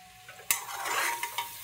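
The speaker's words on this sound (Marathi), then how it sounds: "कांदा गोल्डन फ्राय करून घ्यायचा छान" Onions frying until golden in a hot pan with chili, ginger and coriander. A stirring scrape sets off a soft sizzle, with a few sharp clinks of the spoon against the pan.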